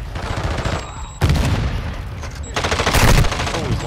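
Dense gunfire from Call of Duty Modern Warfare 2 in ranked multiplayer, rapid automatic bursts with booming low punches, loud and close, rising to a heavy volley near the end.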